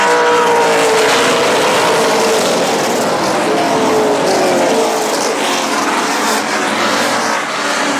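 Race cars at Central Texas Speedway circle the track nose to tail in single file, their engines blending into a continuous, loud roar that rises and falls slightly as the pack passes.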